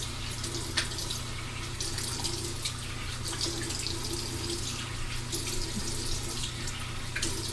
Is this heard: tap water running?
yes